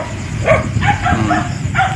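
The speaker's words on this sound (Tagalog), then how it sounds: "Nakakawala ng mga aso." Dogs yip and bark several times in short, uneven bursts at night on a rural property with papaya trees, fairly close and mixed with a low background hum.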